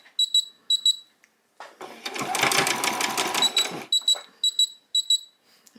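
A sewing machine double-stitches a dress, going from a quick run of short stitching bursts to one longer steady run and then back to short bursts, close and loud.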